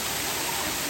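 A waterfall at Gozalandia, the second and smaller of the falls in a secluded spot, pours as a steady, broadband rush of water that fills the whole second with no breaks and no talk over it.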